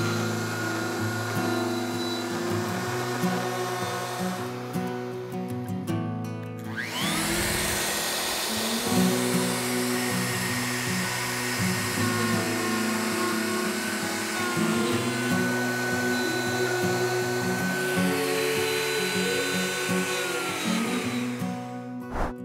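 A woodworking router mounted on a Woodpeckers multi-function router base cuts a pass in wood, a loud, sustained whine that dips in pitch as it loads up and runs mostly continuously, close and without talk.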